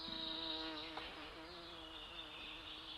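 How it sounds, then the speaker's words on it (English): Insects softly buzzing as they flit between flowers in a grassy outdoor spot, a faint, continuous wavering drone with overlapping whining tones and no voices. "Hear the insects softly buzzing as they flit from flower to flower."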